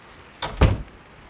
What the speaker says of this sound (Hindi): हवा का झुमका दरवाजा बंद कर देता है।